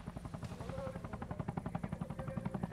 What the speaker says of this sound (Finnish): Kopteri.